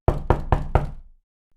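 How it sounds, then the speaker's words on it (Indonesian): Four quick, evenly spaced knocks on a door, close and distinct, followed by silence. "Lalu terdengar suara ketukan pelan."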